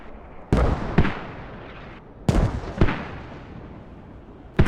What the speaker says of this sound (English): right now, CoRe are the ones running the mortars